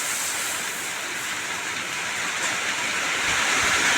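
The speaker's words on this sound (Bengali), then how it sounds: "আবার কিন্তু জোরে বৃষ্টি এসে গেছে আপনারা আমার কথা আর শুনতে পাবেন না" Heavy rain pours down near an outdoor kitchen where palm-fruit fritters are being cooked, a dense, unbroken hiss that stays loud and even throughout, with no voices over it.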